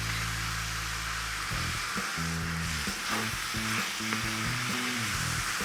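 Ground meat browning in a pan for Hawaiian sloppy joes makes a loud continuous sizzle with crackling, while a voice is heard faintly underneath.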